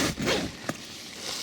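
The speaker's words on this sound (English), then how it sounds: "Top zip, closes it completely." A tent's top zipper is pulled shut at a wild camp on the Solway Firth, a close, loud rasping run followed by a brief sharp tug at the end, with no talking.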